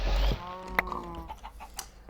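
Chickens clucking in Minecraft, a few short blocky calls with a rooster-like note, fairly close and moderately loud over a low hum.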